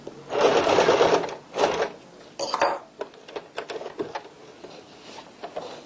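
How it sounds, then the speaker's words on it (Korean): A sewing machine stitches the side seam of a tote bag in several bursts, with a long run and shorter runs separated by pauses, followed by lighter mechanical clicks and handling noise close by. "원판의 옆 기둥선을 박음질 하겠습니다."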